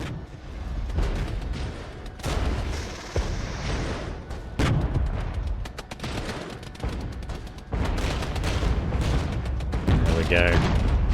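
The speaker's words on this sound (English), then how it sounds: "Artillery is actually hitting very, very hard. That was a beautiful strike." Heavy artillery strikes in the war game Regiments, a dense run of booming impacts and gunfire rumbling continuously, loud and close, with battlefield noise layered throughout.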